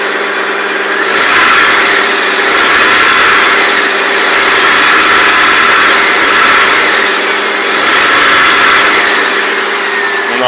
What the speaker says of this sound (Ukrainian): Будемо газувати і водичка у нас буде хлюпати.